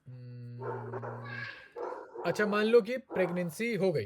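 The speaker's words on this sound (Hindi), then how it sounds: "थोड़ा आपका बैकग्राउंड में थोड़ी ज़्यादा ही आवाज़ आ रही है" A dog barks and whimpers in the background of a room during an online class, short yelps heard under someone speaking in Hindi.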